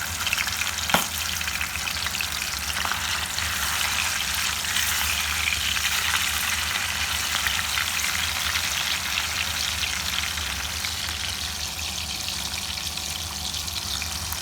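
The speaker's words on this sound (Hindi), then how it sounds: "ऑयल हमारा गर्म हो रहा है। अब हम इसमें फ़िश डालते हैं।" Fish pieces fry in hot oil for a home-cooked fish curry, a loud continuous crackling sizzle with a brief clink near the start and no talking.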